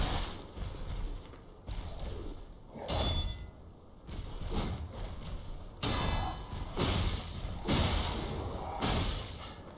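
Heavy thuds from enemies' butt-slam attacks in Lies of P, a series of separate impacts landing every second or so with clangs between them, no voices.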